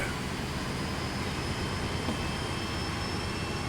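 Steady, loud rumbling roar with a faint high whine from four Santa Fe (AT&SF) locomotives on Cajon Pass as their dynamic brakes engage in a train simulator game, hauling a short string of cement cars.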